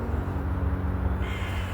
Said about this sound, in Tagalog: Wawa naman yung ibon.